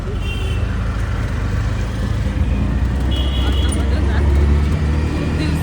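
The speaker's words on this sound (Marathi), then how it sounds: "ट्रॅफिक आहे जास्त गाड्यांचं नुसतं हॉर्न" Heavy road traffic in Mumbai, a steady dense rumble of cars, buses and trucks close by with faint horn-like tones, while a person talks over the noise.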